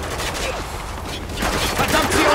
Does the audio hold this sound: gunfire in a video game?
yes